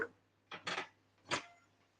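Vegetables stirred in a cooking pot of pasta bake ingredients, three quiet clinks and scrapes of a utensil against the pot, close and isolated over a faint steady hum.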